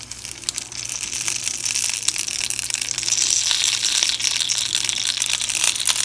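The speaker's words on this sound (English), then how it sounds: "Micah had this idea to actually fry the grape leaf, which I'm doing right now" A grape leaf fries in a hot pan, giving a close, steady crackle of crisp spitting pops and crinkling bursts that continues without pause.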